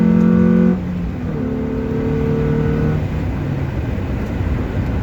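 A cheap all-wheel-drive Honda Civic pulls hard from a standstill toward 80 mph, its engine tone climbing, dropping at a gear change, then rising again as a steady, loud drone with no talking.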